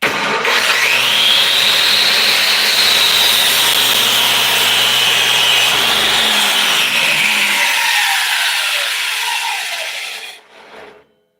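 A hand saw cuts through a piece of wood to trim off a crack, giving a steady, close rasping stroke that runs for about ten seconds before stopping.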